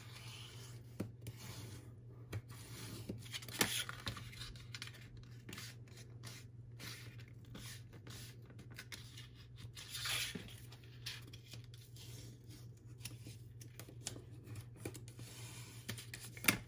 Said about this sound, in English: it's very hefty cardstock, so you really have to be careful when you're folding up on the lines